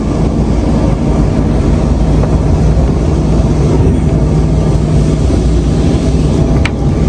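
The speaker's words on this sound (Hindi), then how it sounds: "मैं भी ट्राम के अंदर खड़ा हूँ" Steady, loud rumble from inside a moving tram on old Lisbon streets in light rain, with continuous low-frequency rolling and rattling throughout and a brief sharp squeal near the end; no talking.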